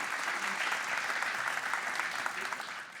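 Sustained audience applause celebrating an e-sports team, a dense, steady wash of clapping from a large crowd that holds at full strength throughout.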